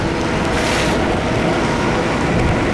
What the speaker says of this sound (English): But yeah, it's seriously raining now.